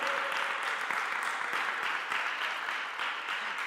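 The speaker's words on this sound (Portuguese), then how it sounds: "Pode aplaudir, é para Ele." A church congregation applauds in praise, steady crowd clapping at moderate volume that holds evenly throughout and tapers slightly near the end.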